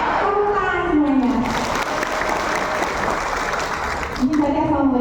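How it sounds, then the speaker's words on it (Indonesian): An audience at a PDI Perjuangan party coordination meeting in Garut applauds loudly in a steady, dense wash of clapping, with voices calling out over it at the start and end. "Tepuk semuanya."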